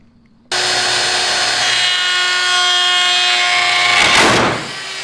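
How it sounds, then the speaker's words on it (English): A handheld power router cuts holes in wood for a homemade secret bookshelf door, with a steady loud whine from start to finish, a brief harsher bite near the end and then a drop in level. "just the sound of my router absolutely decimating a perfect hole in my wood"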